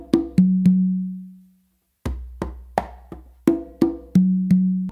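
Two congas playing a songo variation, open tones and ghost notes with two opens on the tumba, sounding as close, loud hand strikes in a steady groove with a ringing low open tone sustaining before a brief pause.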